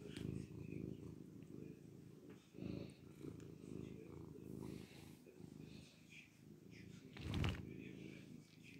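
A small, eight-year-old cat rests after dinner, purring softly in a low rumbling rhythm, faint and close, with occasional soft shuffles and a brief louder bump near the end.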